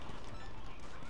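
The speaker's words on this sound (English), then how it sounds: "We got the horses in the back!" Horses' hooves clip-clopping in a video game in a quick, steady rhythm, dense and continuous with a busy background.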